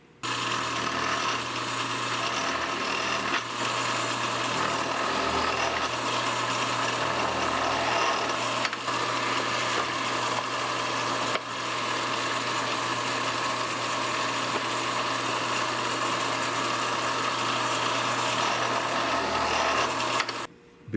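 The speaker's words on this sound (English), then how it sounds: "I kicked the speed up on this drill bit so it's running a little faster than it was at first" A drill bit spun at increased speed bores a hole in wood while reproducing an antique mantel, giving a steady, continuous motor whine with a constant low hum, close and loud throughout with no talking.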